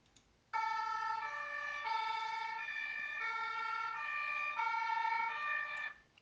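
Ambulance siren wailing steadily in a loud, close two-tone pattern for about five seconds, starting abruptly and cutting off near the end, with no voices.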